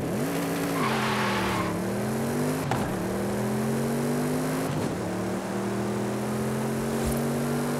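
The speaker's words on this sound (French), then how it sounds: "On va se faire un petit départ arrêté." A tuned BMW X6 making a standing start in the racing game Forza Horizon 5, its engine droning and climbing in pitch through successive gear shifts, loud and steady with no talking.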